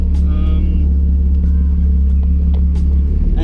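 A drift car's engine runs steadily at Midland circuit, heard from inside the car as a loud, constant low rumble with faint voices over it.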